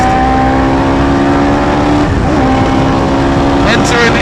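A Hayabusa-powered Westfield race car howls loud and steady on a track during an action day, its engine note holding high then dipping briefly as it overtakes a Golf R, with a voice talking over the roar.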